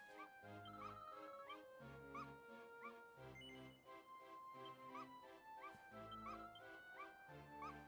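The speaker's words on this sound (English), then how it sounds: "It's got the cutest bark." A puppy in Dragon Quest XI gives repeated short, high yips and barks in a quick rhythm over cheerful game music, fairly close and clear, with no speech.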